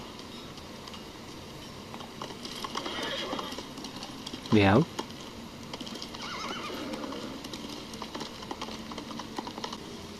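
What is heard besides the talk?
horse neighing and hoofbeats in Ghost of Tsushima video game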